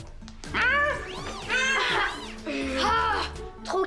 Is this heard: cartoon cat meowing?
yes